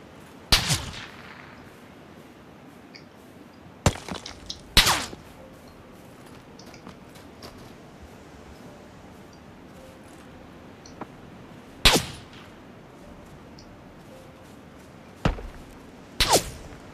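Sharp, loud gunshots from the PUBG battle royale game, several isolated cracks spaced seconds apart, some in quick pairs, over a quiet near-silent background.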